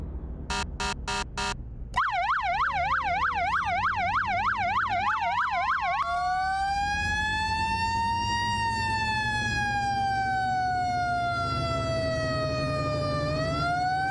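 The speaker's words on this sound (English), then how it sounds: "I do have to say that this siren sounds a lot better." A fire engine siren in the Flashing Lights video game blares loud and steady, starting with rapid yelping pulses and then sliding into a long, slow rising and falling wail, with no talking.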